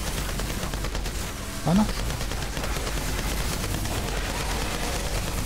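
Outriders gunfire rattles in continuous overlapping bursts of automatic shots from enemies fighting at close range, loud and dense throughout, with a brief spoken exclamation partway in.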